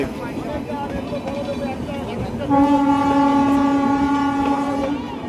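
Express passenger train 13126 Sairang–Kolkata running through Krishnanagar City junction, a steady rolling rumble that swells after a couple of seconds with a sustained, loud tonal horn-like drone, and faint voices in the background.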